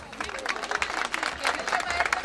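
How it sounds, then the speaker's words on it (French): Audience at a fashion show during Saint Louis Fashion Week breaking into brisk applause, a dense patter of many hands clapping close by, with a voice speaking over it. "je vous demande d'applaudir très fort, s'il vous plaît"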